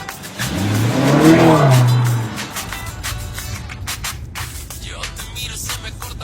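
A Maserati GT sports car engine revs up loudly and briefly, rising then falling over about two seconds, then settles into a lower idle rumble with some background noise.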